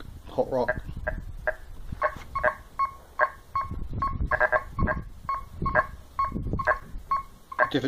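A Golden Mask 1+ UK Edition metal detector gives short, repeated beeping tones over coke and hot rock, a steady run of brief blips against rustling ground noise and handling sounds.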